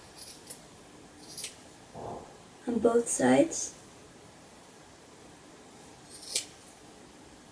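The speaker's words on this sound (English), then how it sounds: "get your scissors and just cut off here" Several short snips from scissors cutting through yarn, close by, followed by a quiet pause and one last crisp snip.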